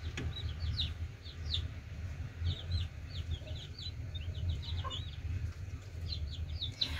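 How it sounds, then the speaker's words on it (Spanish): Chicks peep and hens cluck among a backyard flock in hot, windy weather, the chirps scattered and moderately faint over a steady low rumble of wind. "Y aquí les voy a mostrar mis pollitas."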